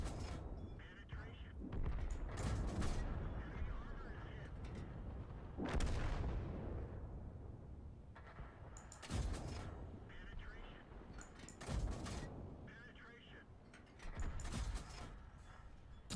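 Tank cannon shots from World of Tanks, several heavy booming blasts spaced through the clip with long decaying tails, fairly loud amid ongoing game noise and a voice talking.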